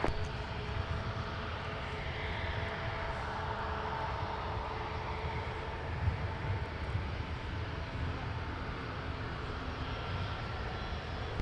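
A Delta airliner bound for Dublin taxis at Minneapolis–St. Paul airport, giving off a constant, fairly distant and subdued engine whoosh with a low rumble and no break in the noise.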